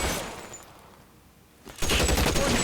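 Tommy gun fire in the video game LA Noire, loud rapid bursts of submachine gun shots in a firefight, rising after a quieter lull.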